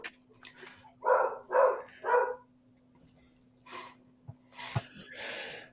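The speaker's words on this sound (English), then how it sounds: "I knew that dog was going to start barking" A dog barks three times in quick succession, fairly close, followed by softer yips and rustling in a quiet room with a steady hum underneath.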